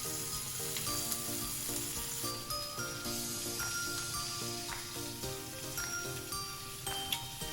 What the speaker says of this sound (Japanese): 鶏肉を皮を下にして焼いていきます。